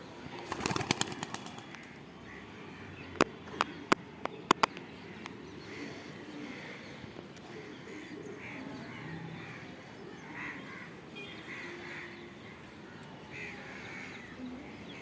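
Racing pigeons on a loft, with several sharp bursts of wing flapping and clatter near the start, then a quieter stretch of soft bird calls and background chatter from the flock.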